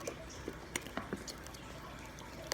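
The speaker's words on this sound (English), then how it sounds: "gonna pour a lot of slime on you." Thick golden pineapple slime poured out, making a string of soft, wet squishy plops and drips, close and fairly quiet with no talking.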